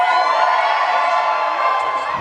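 A theater audience at a Friday night Rocky Horror Picture Show screening screams and whoops together, a loud, sustained wall of crowd noise throughout.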